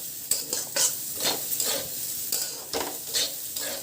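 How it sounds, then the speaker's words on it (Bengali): Rice for khichuri fried in a pan with steady sizzling, constantly stirred with a utensil scraping and clinking against the metal, close and continuous with no talk. "দেখো অনবরত নেড়ে যেতে হবে, নাহলে কিন্তু নিচে লেগে যাওয়ার চান্স থাকবে।"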